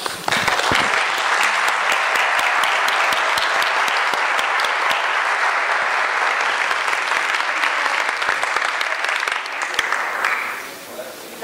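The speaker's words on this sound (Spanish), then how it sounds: "Un aplauso." A seated audience at a talk breaks into loud, sustained clapping, a dense wash of hands that continues for about ten seconds before fading out abruptly near the end.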